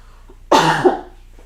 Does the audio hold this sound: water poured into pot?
no